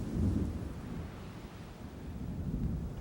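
Radio drama storm effect for an approaching hurricane: a continuous low rumble of thunder and wind that swells, dips, then builds again, with a rain-like hiss under it and no speech.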